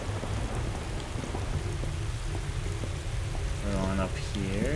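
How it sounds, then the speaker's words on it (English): A video game thunderstorm with steady heavy rain and low rolling thunder fills the whole stretch, and a voice briefly speaks over the storm near the end. "And now all is dark and stormy."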